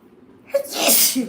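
A single close human sneeze with a short breathy intake and sharp burst, heard alone.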